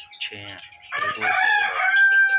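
Aseel Misri cross hens, a small flock of chickens clucking and cackling up close in a backyard coop, with someone speaking briefly over the calls.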